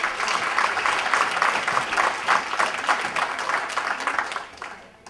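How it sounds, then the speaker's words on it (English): Applause for a coach at a high school winter sports awards ceremony in Abington: a crowd claps steadily in a dense, even patter, moderately loud and sustained before tapering off at the end. "So I just want to have a round of applause for Coach Clifford"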